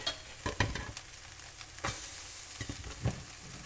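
Plant-based pancakes fry in pans heated to medium, a quiet steady sizzle broken by occasional scrapes and taps of a utensil against the pan.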